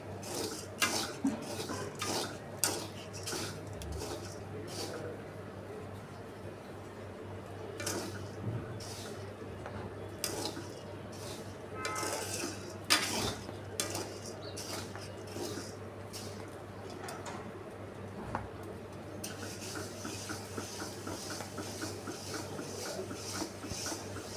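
Grains for gud dhani roast dry in a pan while being stirred continuously, giving soft rattling scrapes and small clinks of the utensil against metal, faint and close, with brief quiet speech.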